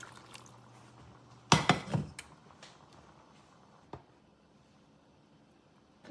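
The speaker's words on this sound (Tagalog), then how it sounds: "Dagdagan natin ng tubig" Water pours into a cooking pot in one short splashing burst, followed by a single sharp clink and then quiet kitchen room tone.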